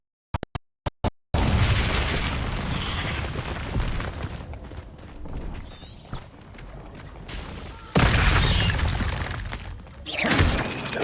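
Confringo spell explosions in the Hogwarts Legacy game: after a few sharp clicks, a loud blast bursts in and rumbles on with debris and crackling, falls back, then a second heavy explosion erupts, with spoken spell incantations mixed in.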